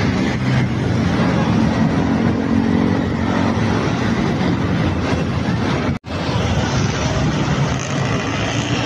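Heavy road traffic crawls along Commonwealth Avenue, a steady, loud rumble of car and motorcycle engines close by, with passing vehicles blending into continuous noise and a brief dropout near the end.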